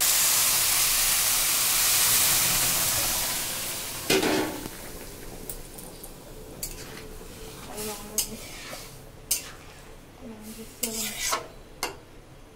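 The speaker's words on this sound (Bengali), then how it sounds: "এবার জল ঢালাবো পরিমাণ মতো।" Water is poured into hot fried ghee in a cooking pot while making vegetarian pulao, giving a strong steamy sizzle that fades into softer bubbling, broken by scattered clinks and scrapes from stirring.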